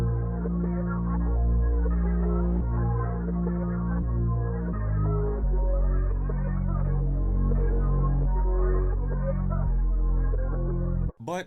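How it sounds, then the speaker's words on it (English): Reese bass synth patch, a growling Moog-style bass from Omnisphere, playing a thick sustained low line with shifting notes, loud and continuous, with a cut at the end and no voices. "take out a tried and true bass, a Reese bass, which is the Growler Moog bass"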